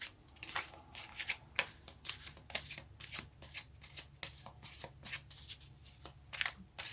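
Tarot cards being shuffled by hand, a steady run of crisp riffling flutters and soft slaps, close and fairly quiet, with no talking.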